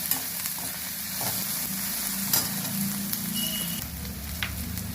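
Onions fry in a pan for a spinach and potato curry, sizzling steadily at close range with occasional stirring clicks and scrapes, and no voices.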